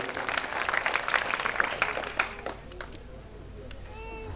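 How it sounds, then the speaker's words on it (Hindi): A village inauguration crowd in Jaulkheda breaks into applause, a dense patter of many hands for about two seconds that then thins and fades while a voice continues. "अभिनंदन करें, शानदार तालियां बजाएं।"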